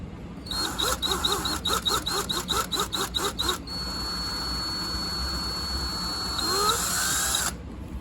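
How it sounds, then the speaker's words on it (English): A power drill bores into a wooden guitar headstock for tuner bushings in rapid bursts, then runs in one long steady whine before stopping. Close and loud, no talking. "So I'm just going to go ahead and drill to the tape."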